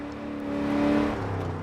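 Engine of an Apollo Intensa Emozione hypercar in Forza Horizon 4, a steady, loud tonal drone that swells and shifts pitch as it revs, heard alone without talk.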